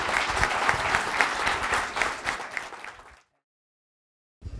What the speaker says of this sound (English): Well, let's give Colin a big round of applause.